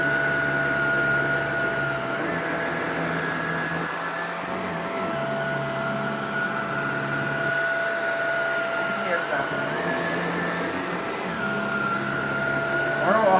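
A Shark Rotator upright vacuum cleaner runs with a steady motor whine and airflow roar, its pitch dipping slightly at moments as it is pushed over the floor.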